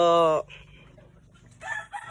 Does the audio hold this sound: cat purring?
no